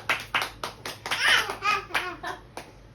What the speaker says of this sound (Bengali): ও হাততালি হাততালি হাততালি